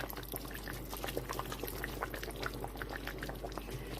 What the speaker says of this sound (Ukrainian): І от за ці 10 хвилин я доливаю 100 грам оцту.